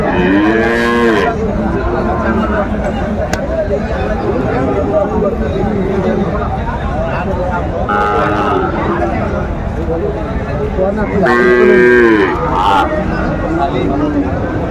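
Sahiwal bulls and cattle moo loudly at a busy livestock market in Faridpur, with several long bellowing calls spread across the scene over constant crowd chatter and haggling voices.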